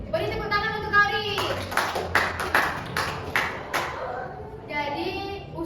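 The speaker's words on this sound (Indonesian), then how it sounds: "Beri tepuk tangan untuk Kauri" A class of elementary schoolchildren bursts into a short round of clapping for a classmate during a photosynthesis lesson, the claps rising in the middle of the moment, with a teacher's voice talking before and after.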